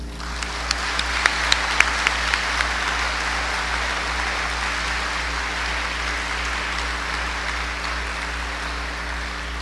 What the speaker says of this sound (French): concert d'applaudissements.